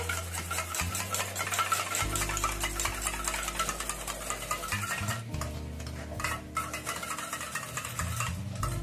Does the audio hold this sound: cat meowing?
no